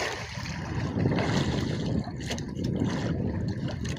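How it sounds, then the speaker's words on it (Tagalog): Big sea waves and gusting wind wash steadily around a small fishing boat out on the open sea, a continuous loud rumble and splash with no voices. "Medyo mahangin-hangin pa kasi kaunti. Kaya malalaki pa yung alon."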